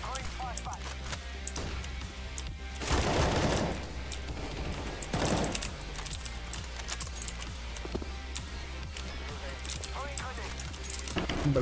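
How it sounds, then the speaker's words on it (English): A flashbang grenade goes off in Counter-Strike: Global Offensive during a retakes round as a loud broadband burst, with a second burst soon after, over constant keyboard clicking, scattered gunfire and voices. "Throwing a flashbang."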